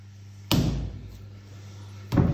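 A lump of pottery clay is knocked down onto a table twice, two dull, heavy thuds about a second and a half apart, close and loud over a quiet background hum.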